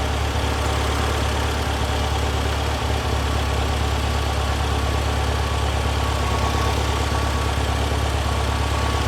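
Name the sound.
1978 VW Super Beetle 1776cc engine idling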